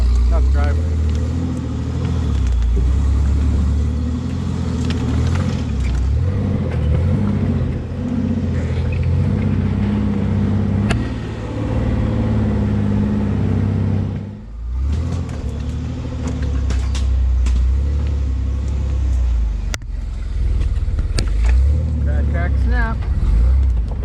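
A rock crawler rig drives up toward the start of the trail, its engine rumbling loudly and steadily up close with revs rising and falling, while someone talks over it.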